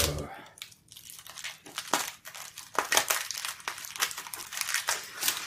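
Crinkly plastic crackles and crunches as a bubble-wrap AliExpress parcel holding an EPROM programmer and chips is cut open, close up, in irregular bursts of rustling and crushing with brief pauses.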